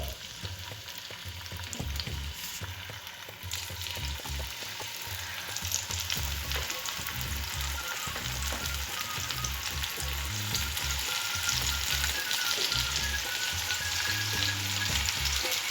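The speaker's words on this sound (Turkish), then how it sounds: "tavamızı ısıttık. Şimdi domatesimizi e, tavamıza koyalım." Tomatoes fry in a hot pan, giving off a loud, continuous, close sizzle and crackle with occasional stirring scrapes and no talking.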